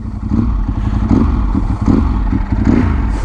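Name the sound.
Ducati 916 SPS motorcycle engine revving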